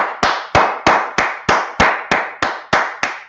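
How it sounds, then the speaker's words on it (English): Ten sharp, evenly spaced claps ring out one after another, loud and close, like hand slaps in a steady rhythm at an ISUPK class gathering, with no voices over them. "Let's clap it up for the Lashawan Qadash."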